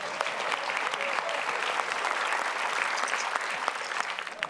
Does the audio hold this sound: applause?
yes